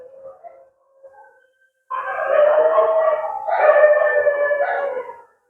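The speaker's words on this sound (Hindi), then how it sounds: "बगल में कुत्ता सब चिल्ला रहा है और ये रात है दिन नहीं है।" Several dogs howl together at night in long, wavering tones, fairly close and loud, after a faint distant howl; the rest is quiet.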